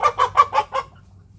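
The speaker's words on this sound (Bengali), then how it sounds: "আপাতত একটা মুরগি ধরতে যাচ্ছি।" A chicken being caught lets out five quick, loud clucks in a close rhythmic burst, then falls quiet.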